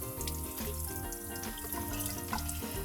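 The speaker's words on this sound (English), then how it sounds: "just get in there and just rinse it out" Cold tap water runs steadily into a kitchen sink while a raw whole chicken is rinsed under it, a close, continuous splashing stream with shifting gurgles and drips.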